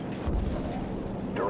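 Air-strike explosion in Call of Duty 4 booming low and rumbling for a moment, followed by lingering battlefield noise and a brief higher whoosh near the end.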